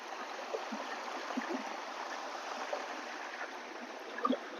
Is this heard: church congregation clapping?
no